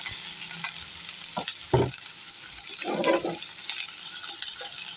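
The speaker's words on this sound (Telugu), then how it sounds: "ఇప్పుడు కట్ చేసి పెట్టుకున్న ఉల్లిపాయ తరుగు వేసేస్తున్నాను" Chopped onions tumble into hot oil with fried dried red chillies for a cucumber-onion curry, giving a continuous sizzle with a few sharp stirring clatters and one brief louder burst, all close and without speech.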